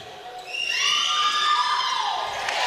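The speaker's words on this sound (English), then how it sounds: "Love hearing the enthusiasm from the crowd here." Home crowd at a high school basketball game at Pacifica Christian High School, with high-pitched cheering and shouting from young voices swelling and holding, moderately loud in a gym.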